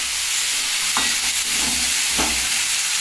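Flat beans frying in a pan over lowered gas flame, a steady broadband sizzle with two distinct scraping stirs of the spatula about a second apart, close and alone without talk.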